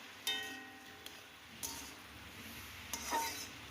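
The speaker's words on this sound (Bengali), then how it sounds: "এবার নেড়ে চেড়ে নিচ্ছি।" Radish curry with slit green chillies being stirred in a pan, giving soft scraping and clinking of a spoon against the metal at intervals, with a faint sizzle underneath and no talking.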